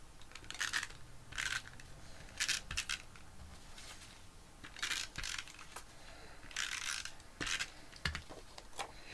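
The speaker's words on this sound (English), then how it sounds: "I'm going to use just my tape runner for" Soft clicks and quick rasping bursts of a tape runner laying adhesive on a card front, irregular short strokes spaced about every second, close and fairly quiet with no talk.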